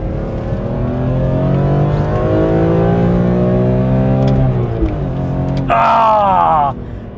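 A BMW M3 E46 inline-six revs hard through second gear, a loud, smooth, rising engine note that climbs steadily and then drops off with a downshift blip, approaching a hairpin, alongside a rising whine and some talk.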